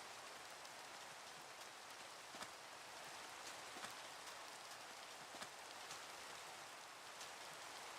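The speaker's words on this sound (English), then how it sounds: "it's raining, man." Rain falling in a video game, a faint, steady wash of patter with scattered louder drops, continuous throughout and with no voices.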